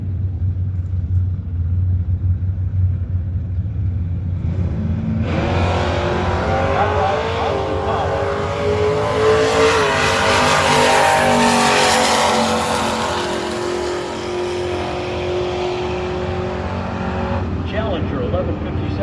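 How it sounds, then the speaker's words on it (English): An early plum crazy Dodge Challenger and a patinaed Chevelle wagon drag race side by side, V8 engines rumbling at the line, then roaring loud and sustained as both launch and accelerate away down the strip. "That early Challenger, that plum crazy U. And of course the patinaed Chevelle wagon."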